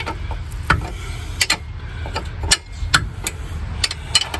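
Metal ratcheting and clicking of a hand wrench working loose 24mm bolts on a 2007 Buick Lucerne outdoors in snow, a series of sharp, irregular clicks and clunks close by over a low rumbling background.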